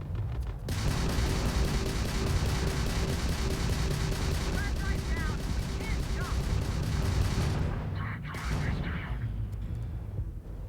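Dense rapid gunfire from new guns in Starfield rattles loudly and continuously for several seconds, then breaks into a few heavier bursts and booms, with a voice briefly audible.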